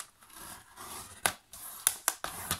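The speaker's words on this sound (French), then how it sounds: "Je vais plier tout de suite mes deux plis et les marquer." Paper folded and creased for bookbinding, quiet soft rustling followed by several sharp, crisp scraping strokes as the folds are pressed down, close and isolated.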